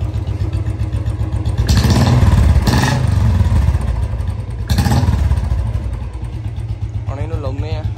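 A Royal Enfield Bullet 350 motorcycle fitted with a tractor-style exhaust thumps at idle nearby and is blipped into several loud revs, then settles again while someone talks briefly near the end.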